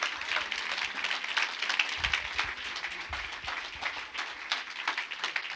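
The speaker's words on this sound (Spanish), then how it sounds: "Dele un aplauso a Raymond Pozo." A church congregation claps for Raymond Pozo, a dense, moderately faint patter of hands that continues steadily throughout.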